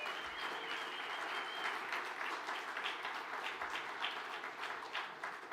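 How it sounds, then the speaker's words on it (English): Audience applause at a law society gathering, a steady wash of many hands clapping that holds evenly throughout at moderate loudness, with no speech over it. "I wasn't expecting applause"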